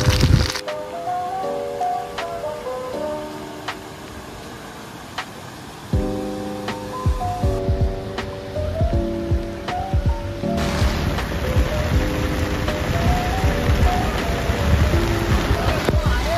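A mountain stream in full flow on the descent from Garbett Plateau, a steady broadband rush of water that runs continuously throughout and grows louder and denser partway through, with no pause.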